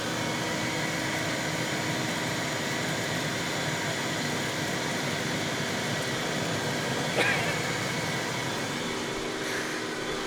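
An H2 Hummer's HVAC blower pushes air in a steady, continuous whooshing hum, even and moderately loud, with a faint engine drone underneath and a brief knock near the end.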